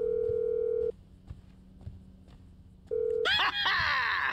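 Phone dialing in Grand Theft Auto V: a steady dial tone, a pause of soft clicks, the tone again, then a bright burst of warbling ring signal at the end, heard alone without talk.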